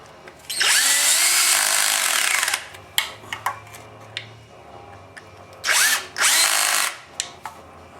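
A cordless drill with a clutch drives bolts on a Subaru oil pan, whirring in two long sustained bursts with short trigger blips between them, loud and close, no voices.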